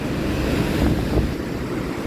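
Very strong sea waves pound a rain-soaked beach in Trivandrum where the sea has washed away the sand and exposed stones, making a continuous heavy roar mixed with gusty wind buffeting the microphone, with no voices.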